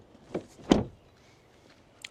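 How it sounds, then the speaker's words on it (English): A door closes on a BMW or Audi SUV, heard as two close thuds in quick succession, the second heavier and louder, followed by quiet and a faint click. "Then the door closing sounds."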